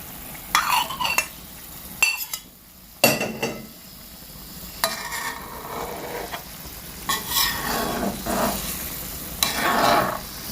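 Small fish being added to a Thai jungle curry in a pot, with stirring and clinking of a utensil against the pot and a soft bubbling sizzle, in intermittent bursts.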